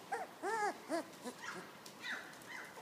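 Young puppies whimper and yip in short, close, high-pitched cries, several in a row, with no talk over them.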